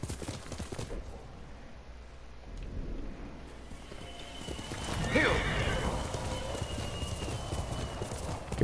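Hooves clop in a steady rhythm over a low background rumble in the video game Ghost of Tsushima, with a horse's whinny rising partway through; faint and somewhat distant.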